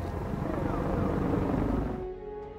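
A helicopter in a scene from the asteroid-disaster film Mira (2022) gives a dense, throbbing rotor rumble that stays loud, then thins and fades abruptly near the end.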